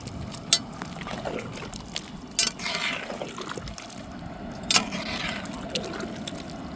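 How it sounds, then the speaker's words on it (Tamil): Water pouring and splashing into a simmering pot of Pahadi chicken gravy, a steady liquid rush with a few brief clinks. "நம்ம சிக்கன் வச்சதுலே தண்ணி ஊற்றி சேர்த்துக்கிறேன்"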